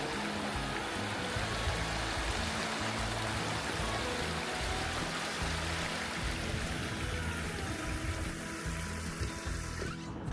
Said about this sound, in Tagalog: Ang sarap pakinggan ng lagaslas ng tubig.